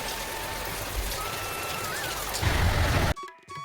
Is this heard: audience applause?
no